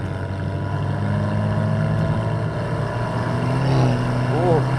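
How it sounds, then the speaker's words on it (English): A car on the wet Nürburgring, running on semi-slick or street tyres, gives a steady loud engine drone as its wheels spin, with the engine note rising near the end. "the wheel spin is real"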